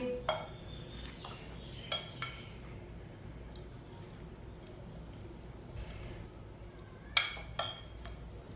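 A spoon mixes boiled chicken in a metal bowl, giving occasional sharp clinks and scrapes against the dish over a faint background, loudest in a pair of knocks near the end, with no voices.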